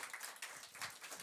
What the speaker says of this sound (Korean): 우리 격려의 박수를 한번